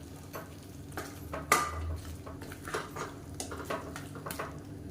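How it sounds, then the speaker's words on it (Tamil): Coconut paste being sautéed in a pan for soya chunks kuruma, a steady close sizzle with repeated scraping stirs and sharp spoon clinks against the metal, no voices. "தேங்காய் பேஸ்ட்டை சேர்த்து ஒரு 2 நிமிஷம் வதக்கி விட்டுக்கலாம்"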